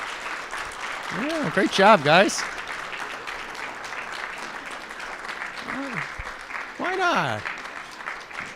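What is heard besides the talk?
audience applause for panel speakers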